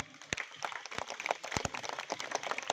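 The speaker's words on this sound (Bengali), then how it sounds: "একটু জোরে হাততালি দিতে বলবো দাসবাড়ির সবার জন্য।" An audience at a household puja gathering claps unevenly, scattered and moderately close, with faint voices underneath.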